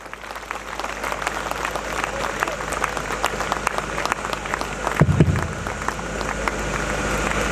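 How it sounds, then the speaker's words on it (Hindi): An audience gives loud, sustained applause as a speaker is welcomed to the stage, dense clapping filling the whole stretch with a brief thump partway through. "मधुसूदन जी मालानी, जोरदार तालियों के बीच आइए सर"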